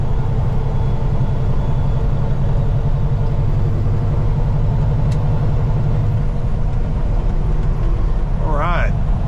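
A semi truck hauling hazardous materials rolls downhill, its engine and road roar a loud, steady drone throughout, with a brief higher squeal near the end.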